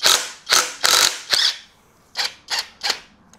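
A ratchet loosens the vacuum pump bolt on a BMW N55 engine during a teardown, giving seven sharp, close clicking bursts, four quick ones, a pause, then three more.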